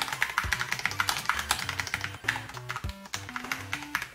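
Typing on a Cooler Master SK630 mechanical keyboard with Cherry MX switches: a brisk, steady run of close, crisp key clacks in an uneven rhythm, heard alone with no speech.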